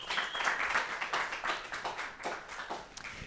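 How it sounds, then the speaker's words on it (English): A small crowd applauds warmly, a dense patter of clapping that holds steady and then thins out toward the end. "Well, let's give John a warm round of applause, welcoming him from Toronto."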